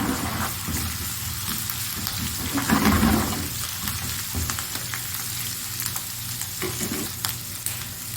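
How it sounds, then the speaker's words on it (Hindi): Garlic and crushed ginger sizzle and fry in a hot pan, a steady close crackling hiss with occasional stirring scrapes, no voices. "लहसुन को थोड़ा सा ब्राउन करके हम डालेंगे अपना क्रश किया हुआ अदरक।"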